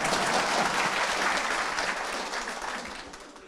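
Seminar audience in a lecture hall claps in a broad, dense round that starts full and gradually thins and fades toward the end, with no voices over it.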